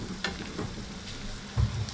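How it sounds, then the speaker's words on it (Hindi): Chana dal goes into a hot pan and is stirred, with a soft sizzle under scraping and shuffling spoon movements, moderately close. "अभी डाल देते हैं अपनी दाल।"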